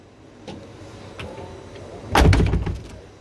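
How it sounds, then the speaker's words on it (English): A 4x4 camper van door swings and shuts with a solid thud and brief rattle, preceded by a few light clicks and handling sounds. "let's close the door"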